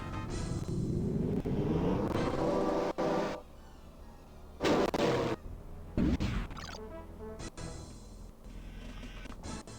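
Spacecraft jump effect in the Privateer space-combat game: loud roaring whooshes and crashing bursts, a long sustained rush early on, then sharp sudden blasts and rumbling surges near and full.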